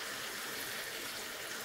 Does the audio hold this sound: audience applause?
no